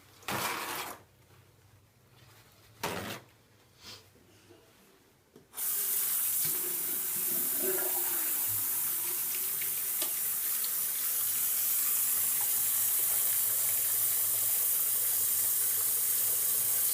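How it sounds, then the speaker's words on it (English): Tap water runs steadily into a sink as hands are washed, a broad continuous hiss starting after a few seconds of quiet room noise and holding loud and close to the end. "I'm going to wash my hands real quick"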